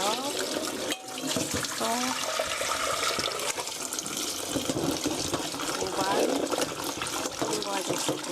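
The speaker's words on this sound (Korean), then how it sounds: "한번 넣어서 뜨거우니까 이렇게 한번 씻어 주시고요." Cooked noodles for soy sauce noodles are rinsed under running water in a sink, a steady splashing flow with someone speaking over it.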